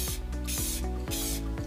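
Rust-Oleum paint primer hisses from a spray can in several steady bursts. Each pass sits over a low, constant hum and no one talks.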